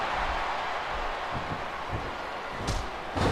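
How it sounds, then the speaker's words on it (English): A wrestler crashes to the mat after a clothesline at a women's pro wrestling show, two sharp heavy slams landing near the end over steady crowd noise and arena ambience. "Amy Chen knocking her opponent down with that clothesline"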